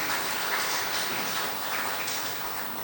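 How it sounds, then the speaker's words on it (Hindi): A hall audience at the Mauritius Arya convention applauds to welcome a speaker, a thick, continuous wash of clapping from many hands that fades slightly at the end. "हम तालियों से उनका स्वागत कीजिएगा ऐसे व्यक्ति के लिए।"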